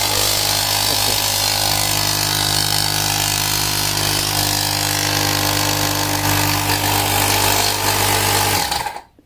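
A Blackfoot cordless car tire inflator pump runs with a loud, steady, buzzing mechanical drone that holds nearly constant for several seconds before cutting off abruptly at the end, with no talking.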